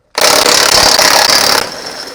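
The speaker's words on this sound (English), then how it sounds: "take a 22mm socket and I'll remove these lug nuts" A lug nut on a 2006-2017 Toyota Tundra is spun off with a 22mm socket on a power tool: a loud, steady mechanical whirr lasting about a second and a half, then a brief quieter tail.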